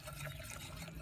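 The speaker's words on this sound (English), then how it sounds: "I need to slowly pour the milk in" Milk poured slowly and steadily into a pan for homemade mac and cheese sauce, a close, continuous liquid pouring and splashing sound with no talking.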